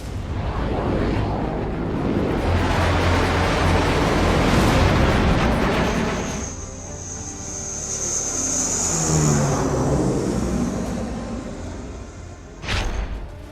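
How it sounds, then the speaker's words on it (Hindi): Sukhoi and Mirage fighter jets roar low over the Purvanchal Expressway during an air show, a loud continuous broadband rush that swells, fades and swells again as the aircraft pass. "पूर्वांचल एक्सप्रेसवे फाइटर प्लेन का रनवे।"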